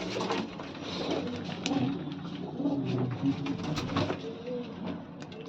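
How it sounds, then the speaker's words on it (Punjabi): Pigeons coo softly and repeatedly nearby, low burbling calls over faint background noise. "ਇੱਕ ਦੋ ਕਬੂਤਰ ਨੇ ਪੱਟੇ ਜਿਹੜੇ ਆਪਾਂ ਤੋੜੇ ਹੋਏ ਨੇ"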